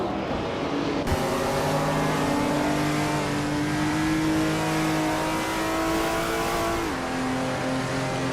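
Racing car engines from a racing video game, including a 1961 MG, drone steadily for the whole stretch, one engine note shifting pitch as it accelerates, loud and continuous with no talk.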